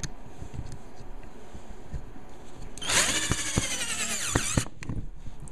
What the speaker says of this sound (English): Now I'm going to drill it into place.